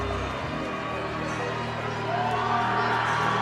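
Crowd noise fills a Civic Center boxing event as a firefighter boxer weighing 240 pounds enters, with steady cheering and whooping, a continuous dense roar with no clear individual claps.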